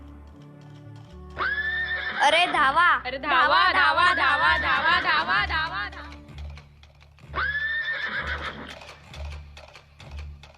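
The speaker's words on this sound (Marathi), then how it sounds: "अरे हे घोडे आमच्या दिशेने येत आहेत." Horses neigh loudly as they gallop toward a group of people, with two long shrill whinnies, the second shorter, and people shouting over them.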